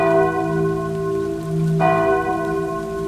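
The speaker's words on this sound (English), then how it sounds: "an ear-piercing toll of bells filled the air" A church bell tolls close and loud, its rich ringing hum sustained throughout with a fresh strike partway through, over a soft rain-like hiss.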